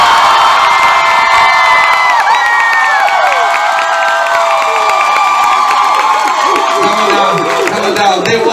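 A live audience at a love and marriage game show whoops and cheers for a couple, excited shouts and scattered claps swelling over a host's voice.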